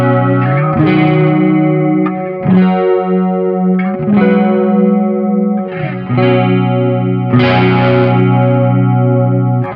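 Guitar played through a Sonicake effects pedal with depth set to 50%, giving sustained chords with a wavering, pitch-shifting modulation; four loud strummed chords ring out one after another with no talk.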